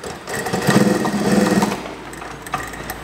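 A sewing machine stitches a trouser waistband in one short, close run of about a second and a half with a fast rhythmic whir, then stops, leaving a few light clicks.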